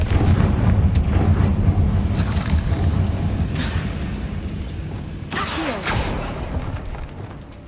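Confringo blasting spell in the game Hogwarts Legacy, a rumbling fiery explosion with sharp cracking bursts over a continuous low roar, loud and close, with further bangs trailing off.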